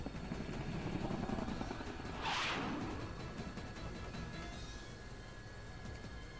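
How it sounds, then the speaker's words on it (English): A helicopter in Persona 4 Arena Ultimax gives a steady, heavy roar throughout, with a sharp whooshing swell partway through as the craft shakes and then settles. "There's a deafening roar as the helicopter shakes madly about, but recovers."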